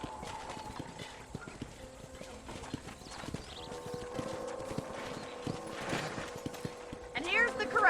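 Horses clip-clopping around a ranch corral in Red Dead Redemption, rhythmic hoof clops mixed with game ambience and someone talking over them, growing busier and louder near the end.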